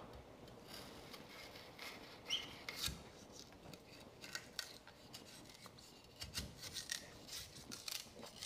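Sugar cane stalk peeled by hand where a damaged section has turned red: dry, fibrous tearing and scraping strokes, close and moderately loud, with sharper rips recurring irregularly and no talking.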